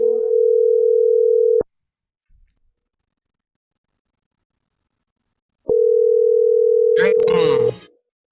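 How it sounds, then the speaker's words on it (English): A steady electronic phone tone sounds twice, a long buzzing ring, a pause of silence, then another ring ending with a brief clatter. "I hear a ringing, not a ringtone."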